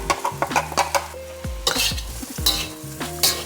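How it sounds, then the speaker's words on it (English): Fried rice with homemade XO sauce of dried shrimp, scallions and scallops being tossed in a hot pan, with loud close sizzling, a metal spatula scraping and clanking in quick strokes, and short rings of the pan. "I'm gonna give this as a toss."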